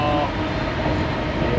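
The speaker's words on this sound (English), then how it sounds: "good old like little freight train and that." Small freight train rolling past at the National Railway Museum in York, a steady close rumble with dense low-frequency rattling and a brief tonal hint of a horn, continuous throughout the short moment.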